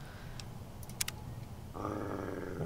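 Rex, a cyborg dog in Fallout New Vegas, gives a low, steady rumbling growl that starts partway through and holds to the end over quiet game ambience, after a few faint clicks.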